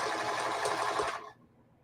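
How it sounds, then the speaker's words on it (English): A sewing machine stitches a facing onto a feedsack hobo bag, a steady close mechanical whir that runs for about a second and then stops abruptly, leaving quiet room hiss. "We're sewing the facing on here, just like we would a dress"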